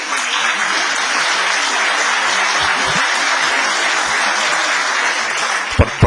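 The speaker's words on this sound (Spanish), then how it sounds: "Por fin saqué un aplauso" An audience at an international seminar on pension systems breaks into sustained applause, a broad, even wash of clapping that holds steady before a couple of sharper thumps near the end.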